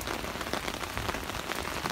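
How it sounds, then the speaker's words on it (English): Heavy rain pounds steadily on and around a parked Ford Taurus X SEL, a dense, continuous hiss of drops with no voices. "it's raining cats and dogs right now"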